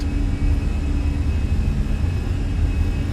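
Airliner jet engines spooled up to takeoff power in Microsoft Flight Simulator, a steady, loud, broadband roar with a faint whine running unbroken throughout, no voices.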